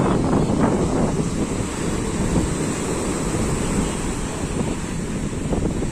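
Steady roar of rough sea waves breaking on Old Digha beach on a rainy monsoon day, mixed with strong wind buffeting the microphone, continuous and loud throughout.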